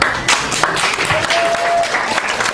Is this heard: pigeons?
no